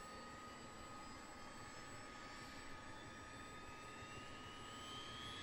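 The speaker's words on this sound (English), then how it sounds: "Engine 2 start." Engine two of an aircraft spools up in the MSFS 2024 flight simulator. A faint, steady turbine hum and whine carries thin tones that slowly climb in pitch.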